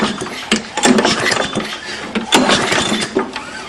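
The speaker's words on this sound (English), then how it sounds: "I took the muffler off just to make the sound more obvious, is a ch-ch sound every time the exhaust releases." Lawnmower engine with its muffler removed and a burnt exhaust valve, pull-started and sputtering with loud, uneven chuffing bursts each time the exhaust releases.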